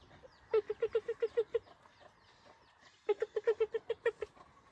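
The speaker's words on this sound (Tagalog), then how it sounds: "yung binili namin na pato ayan sila" Two quick bursts of rapid, rhythmic quacking, about eight calls each, separated by a short pause, close by and fairly loud.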